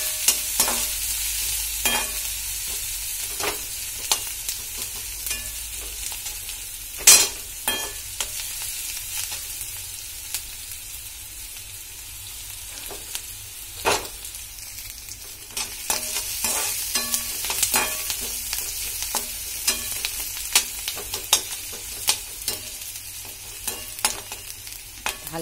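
Ingredients for maggi fry in a pan and are stirred again and again, a long low sizzle broken by scattered sharp scrapes and clacks of the spoon, close by with no talking.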